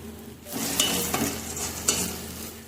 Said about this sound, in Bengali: রসুনটা তেলের মধ্যে খুব ভালো করে ভেজে নিয়েছে